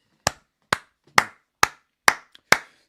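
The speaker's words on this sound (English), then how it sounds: "Sometimes you just got to stand and applaud brilliance." A single person claps six times in a slow, evenly spaced rhythm, each clap sharp and close with a brief ring, separated by silence.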